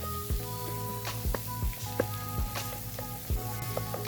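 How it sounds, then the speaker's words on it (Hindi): An egg burger fries in desi ghee on a tawa, giving a steady close sizzle with scattered pops and crackles, accompanied by intermittent low tapping sounds. "1 चम्मच और देसी घी का डाल देते हैं इसके ऊपर"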